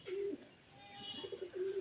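Pigeons kept on a rooftop coo in soft, low repeated phrases, a near call at the start and two more near the end, with faint chirps and background hum between.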